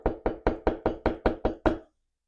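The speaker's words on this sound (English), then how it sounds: "there was a knock on his door." Nine firm knocks on a door land in an even, steady rhythm over about two seconds, close and clear, followed by silence, used as an effect in a spooky story.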